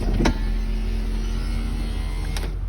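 Hydraulic roof cylinder and pump on a Mercedes-Benz SL500 R230 convertible running after installation: a steady, close electric whine with a soft click at the start and another near the end.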